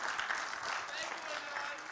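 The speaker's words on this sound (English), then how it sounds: "Yeah, clap for the anonymous hacker." Conference audience at a security talk clapping briefly, a fairly faint, steady patter of hands lasting a couple of seconds, with a voice speaking alongside it.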